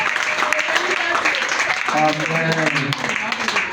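A church congregation applauding, a mid-level burst of clapping mixed with voices, with someone speaking over it.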